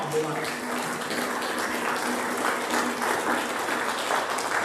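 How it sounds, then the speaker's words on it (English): An audience applauds at a memorial celebration of life, a steady mass of clapping in a hall that runs throughout, with some voices mixed underneath. "Give him a round of applause just for that."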